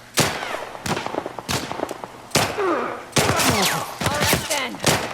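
Gunfire in The Last of Us remake video game, with several sharp bangs spread across the clip that mix with game sound effects and faint talk.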